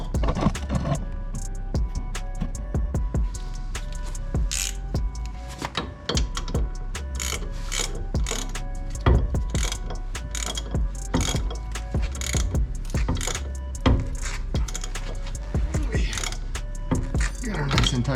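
A ratchet clicks in rapid bursts while a control arm nut is tightened on a turbo drift Miata, close-up metallic ratcheting with brief pauses and speech mixed in.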